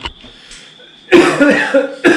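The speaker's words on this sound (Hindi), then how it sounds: "खांसी है थोड़ा सा," A person coughs in a harsh, rasping burst of several coughs close by, followed by another short cough after a brief pause.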